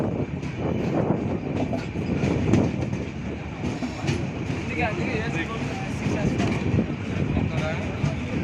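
A passenger train at Ichchapuram railway station, with a steady, loud rumble and rattle from the rail cars. Voices and general station bustle run throughout, close and continuous.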